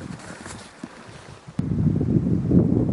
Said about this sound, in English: but man, that wind.